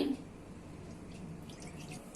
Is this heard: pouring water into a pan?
yes